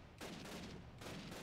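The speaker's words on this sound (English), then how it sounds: "They shooting at me." Gunfire rings out in the video game Call of Duty Classic, two quick bursts of sharp shots separated by a short pause, fairly faint in the mix with no talk over them.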